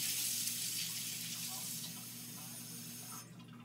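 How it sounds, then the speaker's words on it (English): Water runs from a tap into a Magic Bullet blender cup holding a scoop of chocolate vegan protein shake powder, a steady hiss and splash that drops off near the end, with no talk. "magic bullet cup, and I'm going to add some water."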